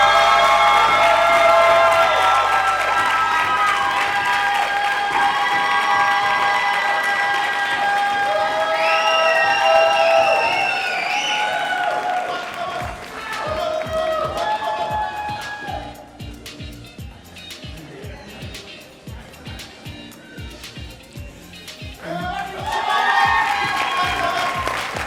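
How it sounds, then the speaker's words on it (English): Audience at a school district ceremony honoring educational support personnel breaks into sustained applause mixed with cheers and whoops, loud and continuous, swelling again near the end as clapping continues. "Let's keep it going. Another round of applause"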